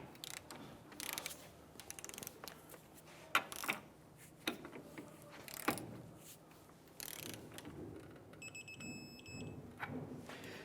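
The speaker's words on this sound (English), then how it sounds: "I'm going to torque our lower ball joint to 80 foot-pounds." A torque wrench ratchets as it tightens the lower ball joint nut on a 1999-2004 Jeep Grand Cherokee, with repeated clicking pawl strokes close by, several sharper clicks and a faint metallic ring near the end.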